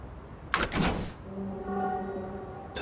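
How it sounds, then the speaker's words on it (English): A door opens in a video game set in a school, with a sharp clack and sliding rattle followed by a faint electric hum, then another brief click near the end. "The door."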